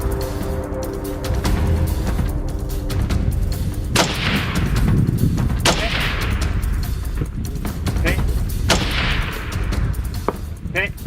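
Gunshots ring out at targets during an outdoor shooting contest: several loud, sharp reports spaced a second or more apart, each with a trailing echo over a dense background rumble.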